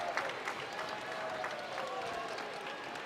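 Faint applause from a basketball arena crowd during a men's college game, scattered claps under a general murmur, quiet and distant.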